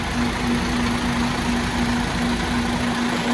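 A MAN diesel engine in a PO Nusantara-bodied bus idles steadily at Cicaheum terminal in Bandung, a loud, continuous low rumble with a constant hum and no break.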